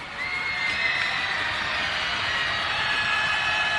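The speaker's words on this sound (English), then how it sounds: "And listen to that crowd making noise." A basketball crowd at a Marshalltown versus Des Moines East game roaring continuously, a dense, loud, even wall of shouting and cheering from many voices filling the whole gym.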